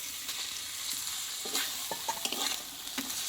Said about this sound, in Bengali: এবার এখানে আমি ভেজে রাখা পটলগুলো দিয়ে দেবো